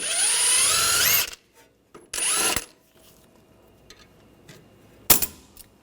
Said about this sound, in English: I'll take the jam nut off, use a 24mm socket.